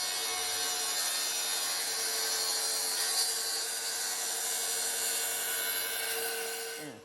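Track saw trimming overhanging barnwood layers flush with an MDF core, a steady loud high whine with cutting noise that holds for about seven seconds before spinning down.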